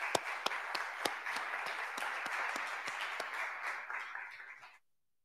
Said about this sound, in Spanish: un aplauso primero para Gerardo